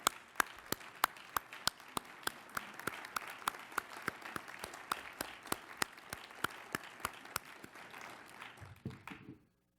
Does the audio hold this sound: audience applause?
yes